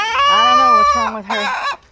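A farm hen clucks and hollers loudly during a solar eclipse, with drawn-out squawking calls followed by a second burst of agitated cackling, close to the listener.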